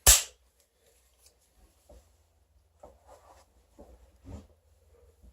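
A DSA FAL officer-model rifle in 7.62mm is dry fired: one sharp metallic snap at the start, followed by faint scattered clicks and handling taps, close and quiet.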